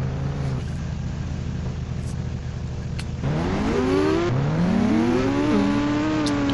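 A motorbike engine in the video game GTA 5 idles, then revs up twice with rising, whining pitch sweeps, loud and close with no talking.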